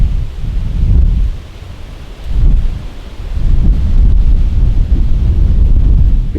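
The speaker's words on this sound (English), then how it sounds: "A bit windy, hopefully the wind's not coming through too much." Gusty wind buffeting the microphone at a hilltop lookout in Sunny Corner State Forest, loud low rumbling surges that rise and fall in waves with no speech.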